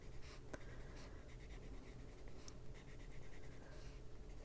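A pencil scratches steadily across an adult coloring page of a pinecone, adding shading in a continuous, close, dry rasp with no talk.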